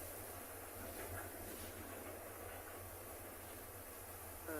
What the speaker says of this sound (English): You might also be able to hear a train in a second.